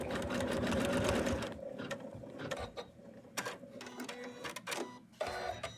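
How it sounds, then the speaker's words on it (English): An embroidery-capable sewing machine stitches a Santa figure's leg in place, fast mechanical whirring close up at first, then stopping and restarting in shorter bursts with clicks and clatter between runs. "And just place the leg and stitch it."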